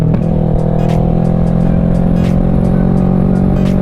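A Kawasaki Ninja 650 motorcycle's engine and exhaust running loud and close, a steady low throbbing drone with faint sharp pops on top, no talking.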